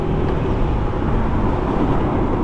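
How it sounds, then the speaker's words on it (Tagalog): Steady engine drone and wind rush from a motorcycle being ridden on a joyride between Langkaan, Dasmariñas and Trece Martires, a loud continuous low rumble at close range with no talking. "Tapos yung tunog ng makina guys ng motor, yung revolution niya, napakaganda sa pakiramdam."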